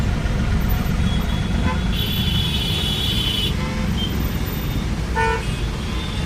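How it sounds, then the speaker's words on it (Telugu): A city road near the ring road is jammed with slow traffic, and several car horns toot and honk over the constant engine rumble while a person speaks throughout. "అక్కడ దాకా ఉంటాయి ట్రాఫిక్ జామ్, రింగ్ రోడ్ దాకా."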